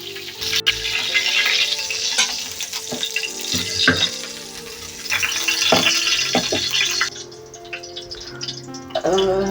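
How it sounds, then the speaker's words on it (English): Chicken pieces sizzle and bubble in hot water in a pot while being blanched for a bamboo shoot chicken curry, with steady frying-like crackle, occasional stirring clinks and a faint rattle, close and continuous. "I'm going to blanch this in a hot water."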